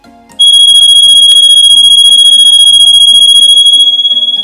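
A motion sensor security alarm for home, office or shop suddenly switches on after a faint start and blares a very loud, rapidly pulsing electronic tone that continues steadily.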